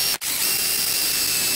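A power drill bores into a part on a 2006 Subaru Outback during CV shaft work, a steady high whirring drone held close after a brief stop at the start, with no talk.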